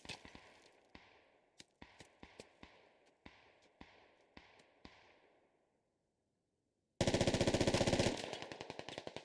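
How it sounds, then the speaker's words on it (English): Gunfire in a competitive squad shooter video game match, first a series of spaced single shots ringing out with decaying tails, then after a brief silence a loud, dense rapid-fire burst. "Getting a few shots in."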